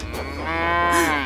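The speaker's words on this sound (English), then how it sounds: "Did you hear that? That sounded like a cow." A single drawn-out cow moo, loud and close, rising and falling in pitch for about a second with no talking over it, heard in the cartoon setting of Thomas & Friends.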